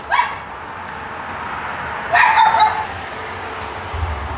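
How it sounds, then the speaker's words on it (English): A dog barks twice, a sharp near yelp at the start and a louder burst of barks about two seconds later, over a low background rumble with no speech. "I'm sorry, I can't hear over the dog."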